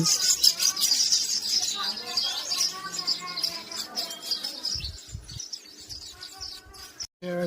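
Busy chorus of weaver birds chirping and twittering close by at their nests, dense high calls overlapping continuously, with a few low thumps near the end.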